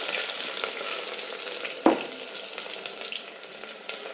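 Green chillies with ginger garlic paste hiss and crackle softly in hot oil as they are stirred in a pan, with one brief scrape of the utensil, faint and steady.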